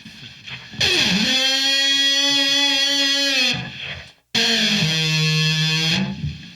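A trombone run through effects pedals and loopers, heavily processed and distorted, holds two long buzzing notes with pitch bends, separated by a short gap.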